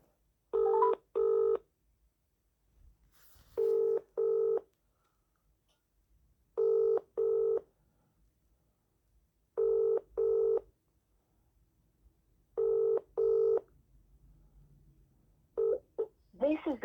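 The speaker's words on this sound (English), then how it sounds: "ringing up Mr. Browell." A mobile call rings out on the line before a Vodafone voicemail greeting, with paired ring bursts repeating about every three seconds, six cycles in all, against near silence.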